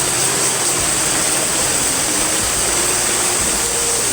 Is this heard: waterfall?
yes